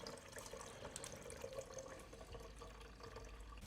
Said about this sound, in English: I'm just taking off the radiator cap to allow air into the system so the coolant can drain.